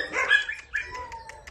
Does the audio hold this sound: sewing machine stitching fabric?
no